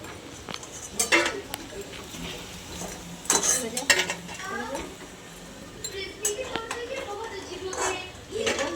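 Fried vada fritters are lifted out of hot oil with a metal utensil, giving scattered clinks and scrapes over a low, steady sizzle while a voice talks.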